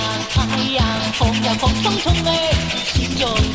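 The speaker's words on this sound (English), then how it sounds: "Let's start sanding." Steady, rhythmic scraping of sandpaper against a crinkly aluminum-foil ball, repeated back-and-forth strokes close up and fairly loud, with no talking.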